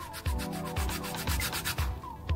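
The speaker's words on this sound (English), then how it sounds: "I took my little sanding block" A small sanding block rubs back and forth over plastic doll parts in quick, regular strokes, close and quiet, about five passes in a steady rhythm with no talk.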